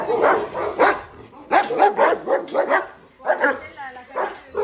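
Several dogs at an animal shelter bark and yip repeatedly, close and loud, in overlapping bursts with short gaps between them.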